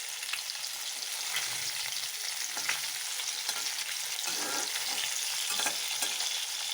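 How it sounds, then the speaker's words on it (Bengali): Fish frying in oil gives a dense, continuous close-up sizzle and crackle, with occasional soft bursts of spattering rising and falling, and no voices. "এই যে মাছ ভেজে নিচ্ছি"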